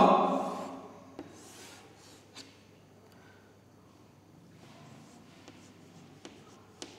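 Writing on a board during a computer class on input devices: soft scratchy strokes and light taps under a low room hum, with a louder rubbing burst at the start.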